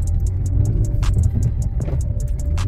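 A Toyota RAV4 with front-wheel drive, driven with brake and throttle together in an attempt to slide, gives a loud, close, continuous low engine drone with a steady rumble and faint intermittent tyre noise, no voices.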